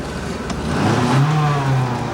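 A car engine revs up as gas is added, the tone climbing and swelling in loudness over a couple of seconds, heard close from inside the vehicle.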